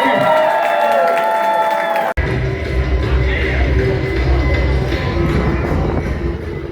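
A live pub crowd in Plymouth cheers, whoops and applauds a tribute band, a dense, loud roar of clapping and shouting that swells up abruptly after a ringing musical ending.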